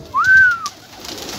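A dolapçı tumbler pigeon gives one short, clear coo, a smooth rising then level tone heard close and alone against quiet background.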